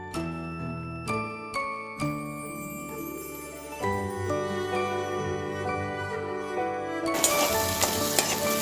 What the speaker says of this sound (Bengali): কিন্তু আমি মশলাটাকে ভালো করে কষিয়ে নেব